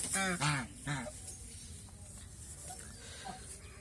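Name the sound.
ducks quacking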